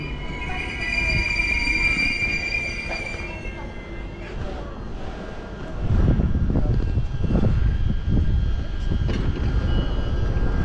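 Steady rumble of a passenger train in motion in New Zealand, heading to Otahuhu, with a high whine early on that fades, then louder low rattling and clatter from the carriage.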